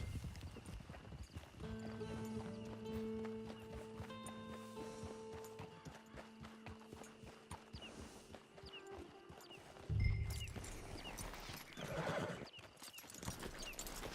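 Steady clip-clop of horse hooves walking, with a horse whinnying partway through over soft ambient music and background noise, in the video game Red Dead Redemption 2.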